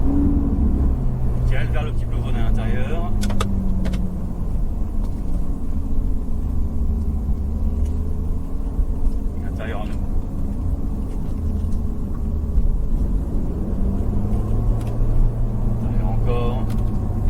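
A Ferrari driven through a video game stage, a steady loud engine drone with shifting pitch running throughout while a voice coaches over it.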